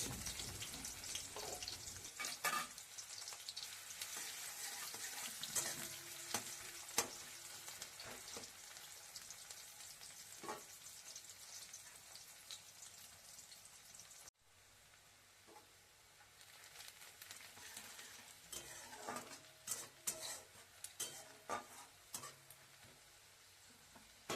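Chopped onions fry in mustard oil in a wok, with a quiet steady sizzle broken up by intermittent stirring scrapes, heard close and faint.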